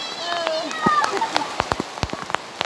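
Heavy rain pelts down, a loud steady wash punctuated by sharp splashy drops and thumps, while excited voices shout and talk over it close by.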